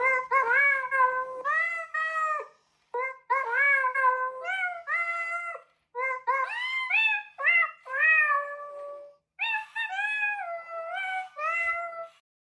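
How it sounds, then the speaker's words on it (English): A Lego robot cat sings a string of electronic-sounding meows, repeated phrases in quick runs with short pauses between them, clear and close with nothing behind it. "next up is a Lego robot cat"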